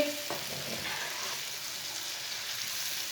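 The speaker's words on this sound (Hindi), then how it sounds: "सब्ज़ मिर्च को भी 2 मिनट के लिए पका लेंगे।" Green chillies frying with spices in a pan for a Punjabi mixed pickle, giving a soft, steady sizzle with a few light stirring sounds, fairly close and without speech.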